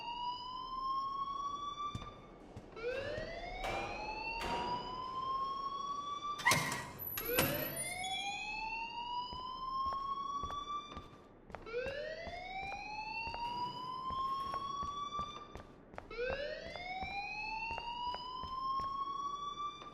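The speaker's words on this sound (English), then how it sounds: "please turn off that alarm since that's your job" A fire alarm in the Life Is Strange video game, a loud rising electronic whoop repeating in a steady cycle of about seven sweeps, heard alone without talk.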